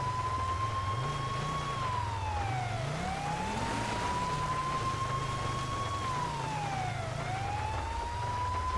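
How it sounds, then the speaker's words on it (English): A GTA 5 police car siren wails in a slow rising and falling cycle, steady and moderately loud over a low engine drone, with no voices. "we're gonna turn our sirens off because we don't want to hear it coming"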